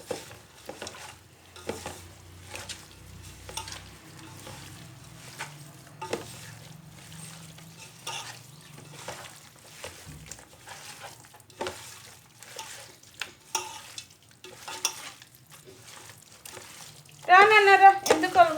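Biryani masala, brown onions, coriander and mint being mixed in a vessel, heard as soft scraping, stirring clicks and light sizzle, with a voice speaking faintly and a louder clatter near the end.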